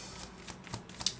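A deck of tarot cards is shuffled quickly with several soft, papery riffles in a brisk rhythm, heard up close and alone.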